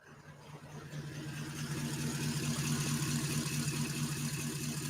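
A 4WD's engine running, picked up close to the exhaust pipe, a steady low droning hum with a rhythmic pulse that swells slightly over the first seconds and then holds even, with no talking.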